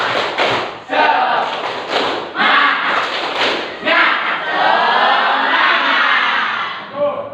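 Classroom students performing the rhythmic "tepuk semangat" spirit clap, a loud, close burst of patterned claps and group shouting, with accented beats in the first seconds giving way to a sustained chorus of voices.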